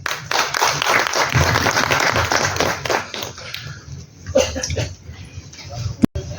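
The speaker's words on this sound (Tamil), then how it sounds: "ஒரு பெரிய கைத்தட்டல் கொடுக்கணும்" Loud crowd applause at a Tamil film audio and trailer launch for Hum. A thick burst of clapping fills the first few seconds, then thins and fades into scattered sounds.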